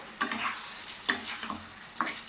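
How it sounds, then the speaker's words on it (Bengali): Potatoes and fish sauté in spiced oil in a pan, a quiet low sizzle punctuated by three distinct scraping, clinking strokes of a stirring utensil. "তো চলো বন্ধুরা এটা কষানো হোক"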